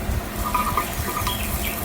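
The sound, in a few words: washing yellow lentils in water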